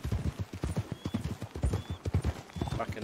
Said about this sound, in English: I didn't know you could drive a horse